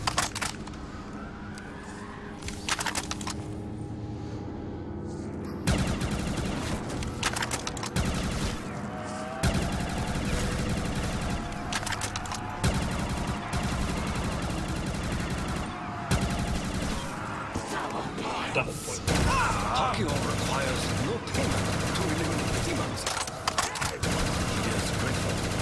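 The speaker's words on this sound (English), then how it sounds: "This is a very powerful gun." Rapid bursts of gunfire from a Black Ops 3 Custom Zombies match on the Bowser Tower map, loud and dense throughout, with repeated clustered shots and brief lulls over game sound.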